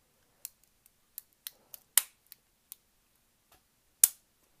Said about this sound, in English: That clicking that you hear is the scissors bumping against the blade